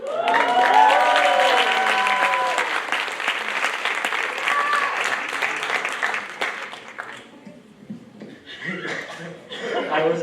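Audience applause with chuckles and laughter fills an evening celebration hall, loud and sustained through most of the stretch, thinning toward the end as scattered clapping and murmurs continue with some voices.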